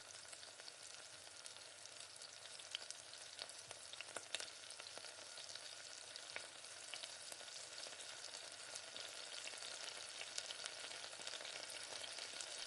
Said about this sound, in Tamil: அரைச்சி வச்ச உளுந்தம் மாவை அப்படியே இது கூட சேர்த்து கொஞ்சம் கொஞ்சமாக சேர்த்து இந்த மாதிரி கிளறிக்கணும்